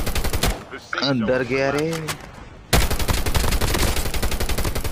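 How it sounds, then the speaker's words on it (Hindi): Rapid bursts of shotgun and automatic gunfire in the mobile shooter Call of Duty Mobile, loud and close, with a short spoken line in the middle before a dense continuous stream of shots. "तो ये किसको शॉटगन चला रहा है?"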